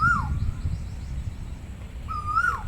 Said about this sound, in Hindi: कोयल बोल रही है कू कू कू।